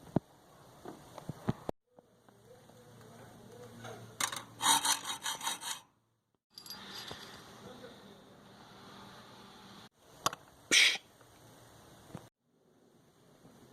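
A wire brush scrubs zinc coating off the steel end of a coat rack in rasping bursts of strokes, with short pauses and a few sharper scrapes.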